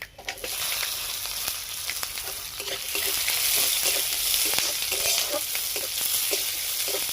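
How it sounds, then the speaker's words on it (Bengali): Onion fries in oil with white mustard seeds, black mustard seeds, cumin and dried red chili, a loud, continuous sizzle close by that swells partway through as it is stirred, and no one speaks. "পেঁয়াজটা আমার ভাজা হয়ে গেছে"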